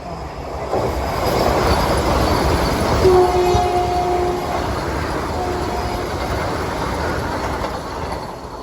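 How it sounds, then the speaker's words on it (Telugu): A Vande Bharat Express running from Coimbatore to Chennai Central rushes past on a parallel track, heard from inside another moving train. A steady loud roar holds throughout, with a horn sounding in two bursts midway. "ఇప్పుడు వెళ్ళింది కదా వందే భారత్ ఎక్స్ప్రెస్. కోయంబత్తూరు నుంచి ఎంజీఆర్ చెన్నై సెంట్రల్ వెళ్ళే వందే భారత్ ఎక్స్ప్రెస్"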